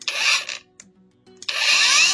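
A Parkside Performance 20 V cordless angle grinder, model PWSAP 20 Li D4, makes two loud, close bursts of harsh whirring noise. A near-silent gap with a faint click separates them.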